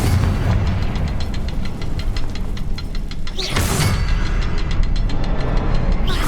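Repeated Confringo blasting-spell explosions in Hogwarts Legacy, a loud booming burst cutting through a dense, continuous rumble of game sound with rapid crackling clicks before and after.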